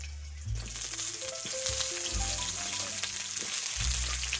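Eggplant dropped into a pan where green chillies are frying, bursting into a loud sustained sizzle, with a low tonal hum and clattering stirs running beneath it.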